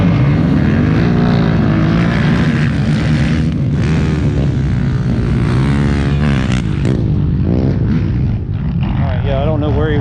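Quad ATVs rev together at the start line of a Florida trail riders HS race in Bartow, a loud, dense engine roar with rising and falling pitch sweeps, steady throughout with no pauses.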